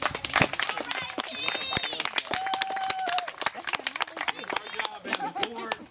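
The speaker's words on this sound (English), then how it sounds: "One more time for applause." Audience applause at the Taste of Bridgewood 2019 community event, a crowd clapping loudly and steadily for the organising committee, mixed with cheers, whistles and crowd chatter throughout.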